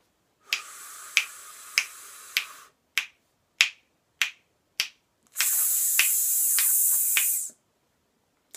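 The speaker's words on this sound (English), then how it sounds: "I'm going to snap my fingers to keep time." Finger snaps keep a steady beat, four crisp close snaps, then a short hiss, four more snaps, and a sustained hiss with further snaps over it.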